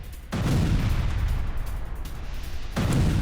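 Deep, heavy booms from a Russian strike on a Ukrainian command post, two loud blasts a few seconds apart with a long rumbling roll between them and no voices.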